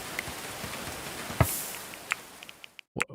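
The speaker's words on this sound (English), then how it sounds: "Turn the rain down, please." Steady rain ambience from the medieval colony-building video game Going Medieval, a soft continuous patter of drops with a few brighter taps near the end and a brief cutoff before the final sounds.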